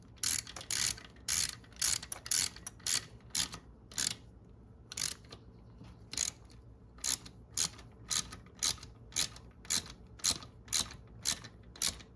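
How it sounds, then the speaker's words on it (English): A ratchet wrench tightens the cam cover bolts on a Kawasaki ZX6R motorcycle during a valve adjustment, giving bursts of rapid, crisp clicking in a steady stop-start rhythm, close and alone in a quiet workshop. "I'm going through it a second time now to snug it up a bit more before I pull out the torque wrench"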